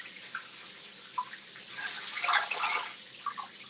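Water running from a bathroom tap while someone washes their face, a soft, fairly quiet splashing and trickling that swells in the middle, with no talk.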